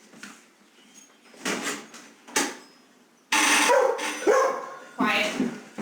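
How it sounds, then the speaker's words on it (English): A dog barks a few times, sharp and close indoors near a door, the later barks louder and rapid, with a person speaking between them. "no more barking"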